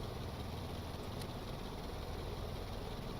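A propeller aircraft engine in a flight video game runs at high RPM during takeoff, heard as a faint, steady, even engine drone with no clear rise or fall in pitch.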